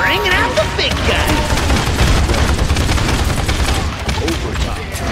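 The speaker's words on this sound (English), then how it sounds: "Bringing out the big gun!" Heavy weapon fire rolls on throughout a Paladins match, a dense continuous barrage of shots and booms under a busy game mix with a voice calling out briefly near the start.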